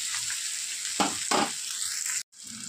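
Ginger paste frying in a pan for a Bengali fish curry, a steady close sizzle with a couple of louder stirring scrapes, briefly cutting out near the end before resuming.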